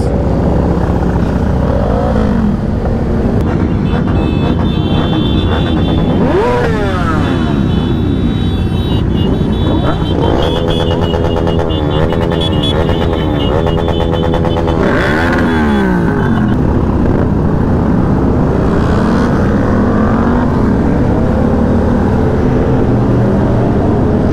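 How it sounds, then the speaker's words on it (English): A large group of motorbikes rides together on a rideout, their engines droning loudly and continuously close by, with revving rises and passing engine notes layered throughout. "So many bikes."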